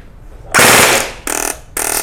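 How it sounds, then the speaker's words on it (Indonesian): An airsoft AEG rifle fires in burst mode: one long loud rattling burst followed by two shorter buzzing bursts, each a quick mechanical chatter, close and alone. "kalau model burst setiap dia nembak, dia akan bunyi pret gitu"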